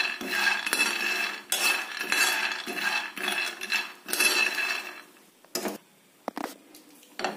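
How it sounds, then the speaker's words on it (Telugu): A spoon scrapes and clinks against a pan while a cup of peanuts is slowly fried and stirred over a medium flame, giving repeated metallic scraping bursts that pause near the end, with no talking. "ఒక కప్పు పల్లీలు వేసుకొని ఫ్రై చేసుకోవాలి మనం మరీ మాడిపోకుండా కొంచెం స్లోగా మీడియం ఫ్లేమ్లో ఫ్రై చేసుకోవాలి"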